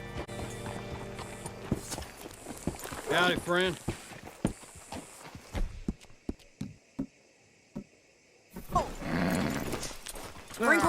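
A horse in the Red Dead Redemption 2 video game clip-clops with a string of sharp, separate hoof strikes, snorting and whinnying in places, while someone speaks briefly over the sounds.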